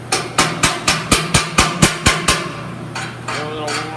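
A hammer chips slag off a still-warm stick weld bead, giving about ten sharp, evenly spaced metallic strikes in quick rhythm, close and loud, then a brief quieter scrape.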